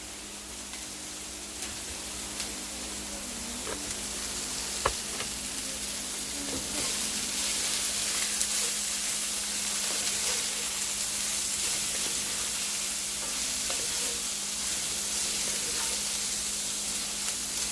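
Egg roll filling frying in a pan as it gets stirred, a continuous even sizzle and hiss throughout with a few soft utensil knocks, no speech.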